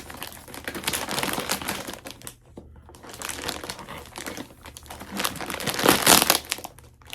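A taped-up parcel of YarnArt Jeans yarn being unboxed: loud, close crinkling and rustling of packaging in waves, briefly easing and then building to a louder burst near the end.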